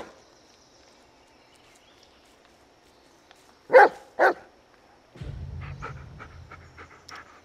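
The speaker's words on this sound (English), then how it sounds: "Listen to his barking and watch his body language." A dog in the Blair Witch video game gives two short, loud barks or huffs close by, followed by a low rumbling sound with small chirps after a quiet stretch.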